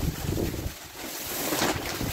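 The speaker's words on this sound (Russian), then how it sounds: "Конечно, с ветром это делать очень тяжело." Strong March wind gusts, reaching around 15–18 m/s, buffet the microphone outdoors while plastic greenhouse film is being glued, producing a steady loud rushing roar that swells and dips without any talk.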